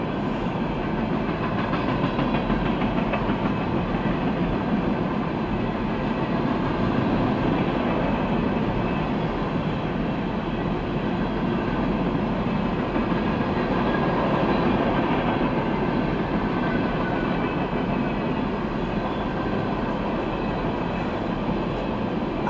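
A long Norfolk Southern freight train of empty sand hoppers rumbles past steadily at night, with a continuous roar of wheels and faint clickety-clack from the rails, loud and close throughout.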